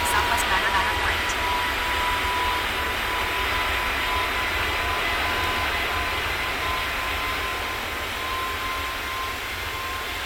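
A jet airliner roars steadily in the video game Tower Simulator 3, a continuous broad engine rumble and whine that stays loud and even throughout.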